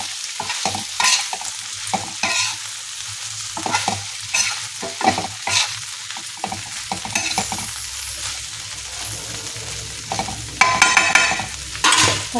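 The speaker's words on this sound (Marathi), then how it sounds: "मस्तपैकी अशी भेंडी चरचरीत होते" Okra (bhindi) stir-frying in a hot pan, a steady crackling sizzle broken by repeated scraping and clinking strokes of the stirring spoon, close and fairly loud, with no speech.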